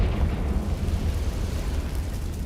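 Confringo spell explosion in a video game, a deep rumbling blast with a sustained low roar that stays loud and dense for the full few seconds, with no talk over it.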